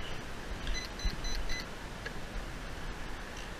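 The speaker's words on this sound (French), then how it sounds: "on allume la radio" A Futaba radio transmitter for an RC car switches on with a run of four short electronic beeps, close and clear over a soft background hiss, followed by faint clicks.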